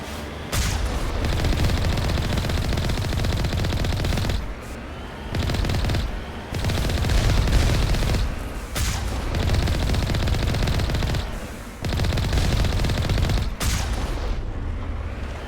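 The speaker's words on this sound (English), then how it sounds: "Who's shooting at me?" Sustained heavy gunfire from the video game Mass Effect Legendary Edition roars close and loud in long continuous bursts, broken by short pauses, with booming impacts mixed in.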